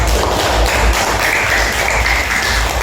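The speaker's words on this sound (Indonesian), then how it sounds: "Kita berikan tepuk tangan kepada kelompok." A classroom of students claps for a group in a brief, close burst of dense, uneven applause with soft taps and thumps.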